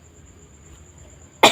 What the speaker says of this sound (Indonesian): Karena buat batuk itu sakit,